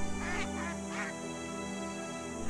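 Ducks quack in a few short, clustered bursts early on, set against a steady tonal background that continues throughout.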